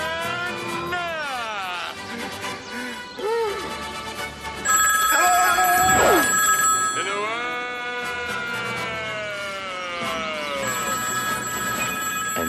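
A telephone rings in a comedy scene, with steady electronic ringing tones under and between animated talk, music-like swoops and shouting voices.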